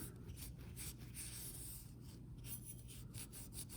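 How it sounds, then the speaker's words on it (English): A cloth wiping excess residue off the blade track of a Microtech knife during cleaning, giving a soft, continuous close rubbing and rasping with small irregular strokes. "let's wipe off any and all excess here"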